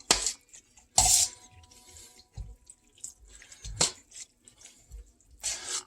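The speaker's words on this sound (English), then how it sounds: "I'm going to mix it around one final time" Pho noodle soup stirred in a bowl, with wet sloshing and liquid swirls punctuated by a few sharp clinks of utensils against the bowl, close and fairly quiet between the louder knocks.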